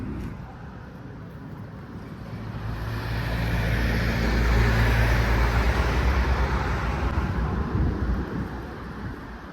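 Passing vehicles on a highway sweep by a parked car, the broad roar swelling to a peak midway and then easing off, with a low rumble and some wind beneath it.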